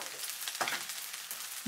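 Soy sauce fried rice with green onion leaves and a little pepper is stirred briefly in a hot pan. A steady close sizzle runs throughout, broken by a couple of sharp scraping clacks from the utensil.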